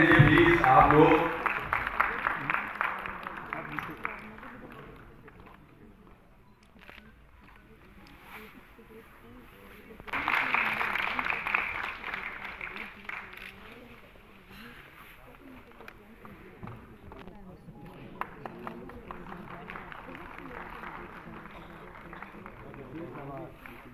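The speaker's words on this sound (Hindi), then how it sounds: "तालियां बजाते रहिए प्लीज आप लोग।" Applause rises from the audience at a city school cleanliness award ceremony, loud at the start, fading, then swelling again midway before giving way to a speaking voice over the hall's murmur.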